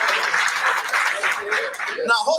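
A live comedy audience claps and cheers in a steady burst of applause, and a voice starts speaking near the end.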